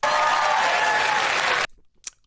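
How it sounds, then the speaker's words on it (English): An audience claps in a dense, loud, continuous burst of applause that cuts off abruptly, followed by a brief faint sound in near silence. "Pause for clapping."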